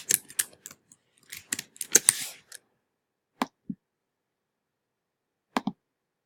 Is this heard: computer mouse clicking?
yes